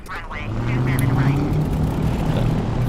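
A steady propeller engine in a flight simulator game drones at idle with a low rumbling hum, while someone talks over it near the start.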